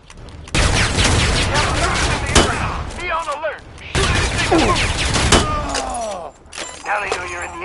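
Gunfire from the video game Predator: Hunting Grounds, with dense bursts of automatic fire and sharp shots in loud clusters, broken by brief lulls with whooshing game effects.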